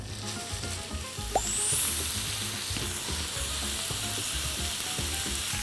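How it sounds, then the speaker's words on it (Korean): Chopped cabbage and American beef brisket stir-frying in a pan, a loud, close, continuous sizzle with occasional tool clicks and scrapes. "이제 썰어준 야채와 고기를 볶아줄 거예요"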